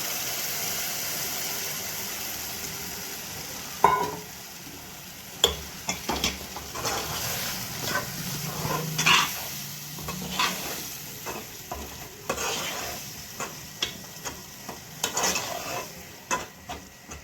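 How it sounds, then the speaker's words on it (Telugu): Ground masala paste frying in hot oil for a masala curry, a steady close sizzle broken by repeated scraping and clinking as a utensil stirs against the pan. "ఇది పచ్చి వాసన పోయే వరకు నూనెలో మంచిగా ఫ్రై చేసుకోవాలండి ఈ పేస్ట్నంతా."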